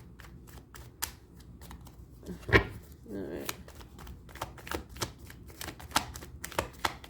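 A deck of tarot cards being shuffled, a run of quick crisp riffling clicks and flutters close by, with a person briefly speaking over them.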